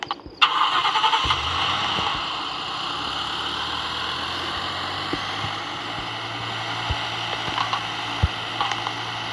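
A vehicle engine in the Roblox game Dead Road cranks over with a sharp click and catches, then settles into a steady, loud idling hum that continues to the end, with a few faint knocks.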